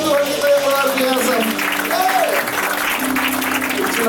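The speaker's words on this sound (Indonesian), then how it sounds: "Berikan sorak-sorai kemuliaan bagi Tuhan kita yang luar biasa." Church congregation at a Feast Jakarta worship service clapping and cheering, steady dense applause throughout with a voice and music carrying over it.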